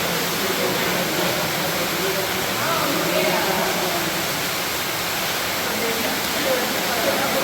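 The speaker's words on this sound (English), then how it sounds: "Point to the waterfall." Steady, loud rush of a waterfall inside Harrison's Cave, a limestone show cave in Barbados, a constant broadband roar filling the whole span without breaks.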